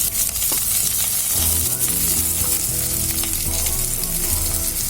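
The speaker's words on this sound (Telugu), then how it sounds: "ఇప్పుడు 2 రెమ్మలు కరివేపాకు వేస్తున్నాను." Two sprigs of curry leaves crackling and sizzling loudly in hot oil for a sorrel-leaf and chana dal curry, continuous close frying with no voices.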